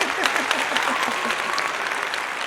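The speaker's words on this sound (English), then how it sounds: "Let's give a big round of applause to Mimi." An audience gives a steady round of applause for Mimi, a yoga guest on a talk show, dense clapping continuing throughout.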